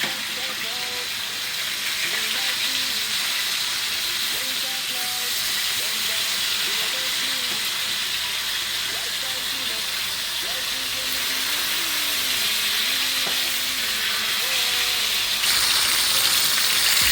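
Steady sizzling hiss of salmon frying in a hot pan on medium-high heat, continuous and moderately loud throughout.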